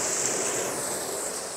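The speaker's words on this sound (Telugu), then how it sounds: "చూడండి ఎంత ఫాస్ట్ వస్తున్నాయి నీళ్ళు, భయంకరంగా ఫాస్ట్ వస్తున్నాయి." Water gushes fast and hard into a tank through a pipe connection, a dense continuous roar that stays loud and steady throughout with no speech.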